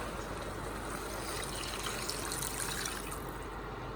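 Water pours steadily over beef in a pot for beef jambalaya, a close, continuous splashing gush with no pauses.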